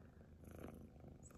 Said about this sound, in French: Je sais pas si vous les entendez ronronner.